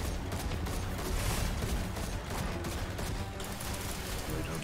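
Rapid turret gunfire in a video game, a dense continuous rattle of shots with mechanical clatter, loud and steady throughout.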